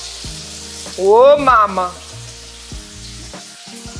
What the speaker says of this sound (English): So we're just gonna throw our steak right on there.